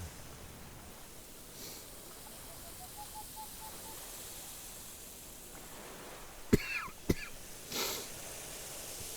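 A few sharp coughs sound close to the microphone near the end, two or three quick bursts over a quiet, hissy background.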